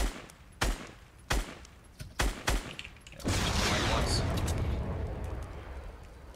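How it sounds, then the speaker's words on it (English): Fortnite gunfire aimed at a rocket pops as several sharp, separate shots, then gives way to a sustained loud rushing roar, with a voice speaking over the action. "He's shooting my rocket."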